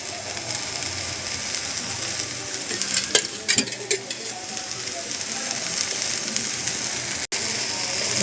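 Cumin and ginger fry in oil in a pan with a constant close sizzle. Scraping from a stirring spoon comes through near the middle and there is a brief break near the end.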